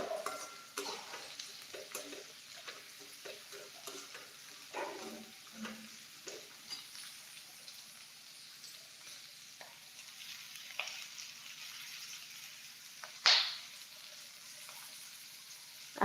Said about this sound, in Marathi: कांदा आणखी मिनिटभर परतून घ्यायचा